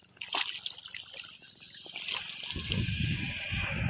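Water trickling and flowing nearby, with soft gurgles and splashes that grow fuller toward the end.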